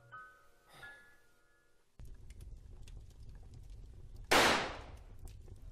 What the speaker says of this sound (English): It was a gunshot.